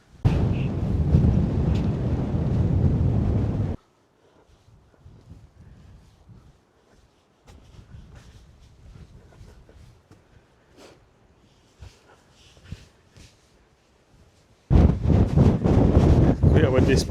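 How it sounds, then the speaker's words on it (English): Strong gusts buffet the microphone on an exposed cliffside rope bridge, roaring loudly at the start and end with quieter, scattered rustling between. "Very, very windy part of the world."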